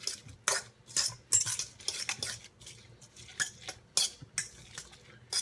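Pico de gallo for fish tacos is stirred in a bowl with a utensil, making a run of close, bright clinks and wet scraping strokes at an uneven rhythm, fairly quiet, with no talk.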